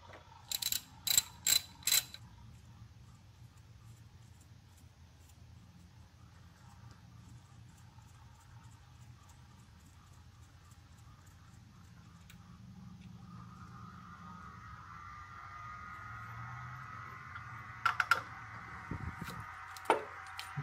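Bolt being removed from a 2002 Honda Civic engine during a timing belt and water pump job: a short burst of sharp ratchet clicks, then quiet mechanical handling and more clicks near the end, close and fairly faint.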